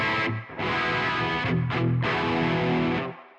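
Guitar played through a Kuassa Efektor overdrive pedal emulation on a blues setting, giving sustained, gritty distorted chords and notes with a brief gap near the start and a short dip midway, heard alone and fairly loud.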